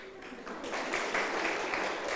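An audience at a seminar session with actress Raveena Tandon claps steadily throughout, a dense patter of many hands that swells slightly and holds at a moderate level with no talk over it.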